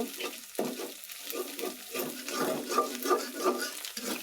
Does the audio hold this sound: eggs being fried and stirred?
yes